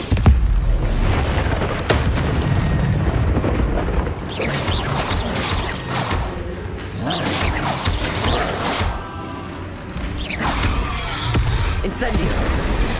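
Spell blasts from Hogwarts Legacy combat, including the Bombarda explosion charm, as a rapid chain of booming whooshing bursts repeating across the stretch under loud continuous game noise.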